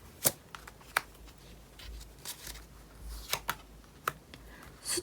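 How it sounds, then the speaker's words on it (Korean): Tarot cards being drawn and handled make a run of crisp, close snaps and soft slides, irregular and quiet, with no one speaking. "카드 3장을 뽑을게요."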